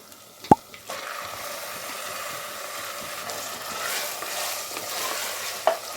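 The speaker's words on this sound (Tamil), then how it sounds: "இப்போ நம்ம கொத்துக்கறியை சேர்த்துடலாம்" Minced mutton drops with a plop into a pan of ginger garlic paste, then fries with a steady close sizzle and light stirring.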